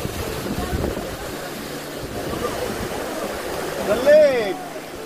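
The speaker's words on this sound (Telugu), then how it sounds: "ఇక్కడేమో ఇలా జలపాతం లాగా పారుతా ఉంది" A waterfall pours from a lake at Matheran on a rainy hill walk, a steady broadband rushing heard from nearby under people talking, with a brief louder call near the end.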